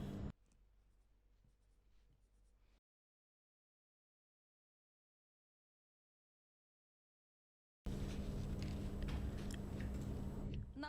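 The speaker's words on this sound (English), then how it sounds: "Draw a beautiful round line." A pen or marker drawing a curved line across paper or fabric while marking a half-circle skirt pattern, a close, steady scratching that stops partway and then gives way to a louder, denser stretch of scraping.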